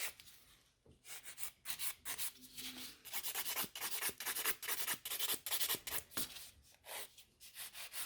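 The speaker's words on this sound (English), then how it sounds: "I'm also filing this nail slower," A nail file working slowly and gently across a badly damaged fingernail, giving steady rhythmic rasping strokes with brief pauses, close but soft, with no voices.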